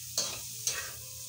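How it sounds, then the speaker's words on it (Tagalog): Pork fat renders in a hot pan with a soft, steady sizzle, broken by two quick scraping stirs close by. "Pamantikain natin siya"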